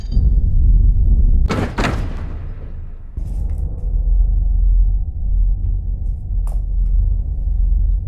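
In the CloverPit video game, a key turns and a cell door unlocks and swings open: a quick pair of metallic clicks, then a heavy thud over a steady low rumble of ambience.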